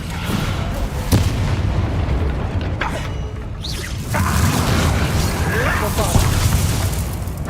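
Descendo spell in Hogwarts Legacy slamming an enemy down, heavy booming impacts and crashes over dense game combat noise, with a voice calling out.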